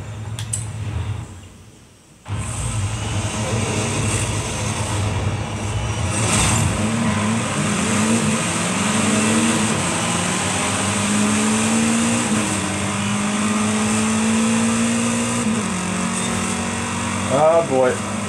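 A BMW engine in Forza Horizon 5 drones steadily and loudly, with the pitch climbing through rising revs and shifting gears, and a brief drop near the start.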